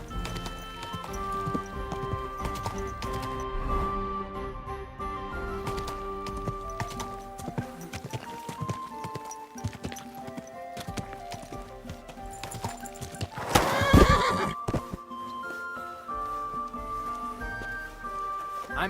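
Hooves clop steadily over a musical background, with a loud burst of activity midway that may be a horse's neigh.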